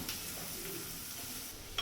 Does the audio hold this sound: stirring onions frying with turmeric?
yes